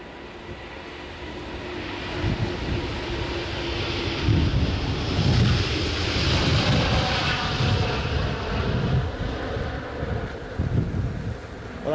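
An Airbus A350 takes off at Edinburgh Airport, a steady loud jet engine roar that swells and rumbles across the whole stretch, mixed with gusty wind buffeting the microphone outdoors.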